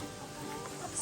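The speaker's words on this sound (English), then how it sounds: "Hello, chickens. The chickens are doing good." Backyard chickens cluck softly in a garden, low murmuring clucks at moderate distance over a steady outdoor background, with no talking.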